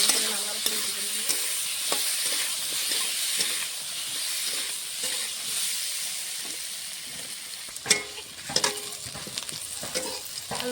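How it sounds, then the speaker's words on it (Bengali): Potatoes with salt and turmeric frying in hot oil, a dense, steady hiss and sizzle close by, with occasional spatula scrapes and a louder clatter of stirring toward the end. "আলুটা ভালো করে লাল লাল করে ভেজে নেব"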